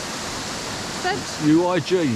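Rha Waterfalls near Uig on the Isle of Skye, a steady broadband rush of falling water heard from nearby, with a voice speaking over it toward the end.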